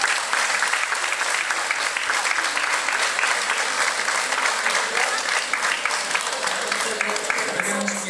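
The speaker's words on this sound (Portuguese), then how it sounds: "pedir uma salva de palmas para estes meninos e para estas meninas" Sustained audience applause for dancers and batucada drummers at a local radio anniversary event, dense continuous clapping throughout at moderate distance, with faint voices underneath.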